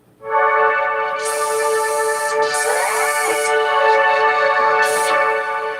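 An Alesis Micron synthesizer holds a rich, sustained harmonic tone, loud and close, with bright noisy swells fading in and out on top of the steady chord.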